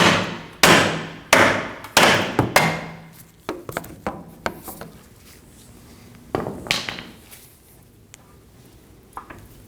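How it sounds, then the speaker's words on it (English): Sharp metallic hammer strikes ring out close by on the steering knuckle of a 2015-2024 Ford Edge 2.0L, a quick series of heavy blows followed by lighter, scattered taps. "Now I'm going to hammer on the knuckle."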